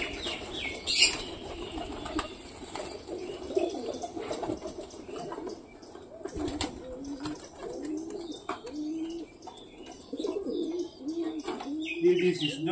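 Pigeons flap their wings in bursts and coo softly nearby, with scattered chirps and some background voices.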